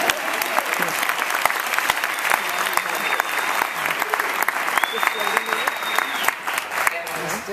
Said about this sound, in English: Can we give a round of applause for our volunteers here?